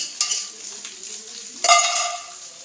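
Egg cooking in oil in a pan, with soya chunks in the pan too, stirred and scraped by a utensil: a soft sizzle with two sharp scraping strokes, close and fairly loud, with no speech.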